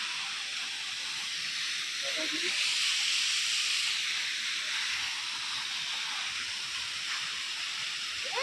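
A waterfall pours in a steady broadband rush of water, heard up close as a constant hiss-like roar that holds level throughout with no break and no talking.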